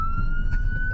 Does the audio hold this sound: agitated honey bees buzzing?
no